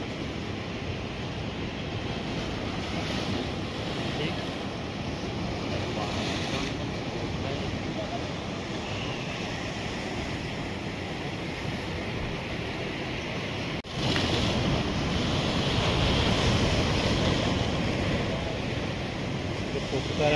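High waves at Harihareshwar beach roll in with a steady roar of surf and gusting wind against the microphone, surging louder partway through.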